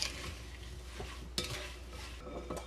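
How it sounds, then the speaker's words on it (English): A dessert mixture with a teaspoon of homemade vanilla is stirred in a bowl or pot: a few quiet scrapes and light clinks of a spoon against the container, close and short, with no speech. "And we're going to stir that all up."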